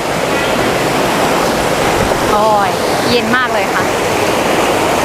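Water rushes loudly and continuously at Phlio waterfall in Chanthaburi, Thailand, a dense roar filling the scene while someone briefly speaks over it.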